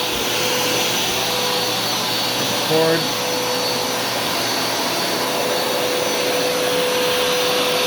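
A loud Hoover Smartwash FH52000 carpet cleaner drones steadily throughout with a constant motor whine, and a voice speaks briefly partway through.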